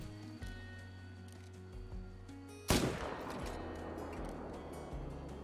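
Heavy-recoil rifle firing in the Call of the Wild hunting video game, a single loud, sharp shot midway through following a low ambient hum, with a long rumbling decay afterward.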